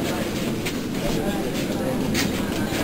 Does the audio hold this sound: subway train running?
yes